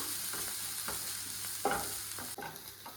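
Sliced onion and half a tomato fry in a pan for a fish masala, with a steady close sizzle and rhythmic scraping strokes of a spoon stirring them, with no voices.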